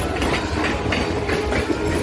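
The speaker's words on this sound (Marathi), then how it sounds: "आणि आता एक लोकल ट्रेन येते समोरून क्रॉस करते आम्हाला" A Bombardier ETMU Mumbai local train from Kurla carshed passes close in the opposite direction near Parel station, a loud, continuous rumble with rhythmic clickety-clack of wheels over rail joints.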